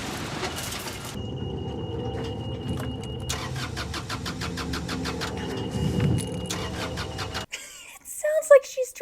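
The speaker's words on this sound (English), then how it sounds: "they just used stock car engine sound effects" A cartoon boat's engine is voiced with a stock car starting effect: repeated cranking of the starter that sputters toward catching, then cuts off abruptly before brief talk.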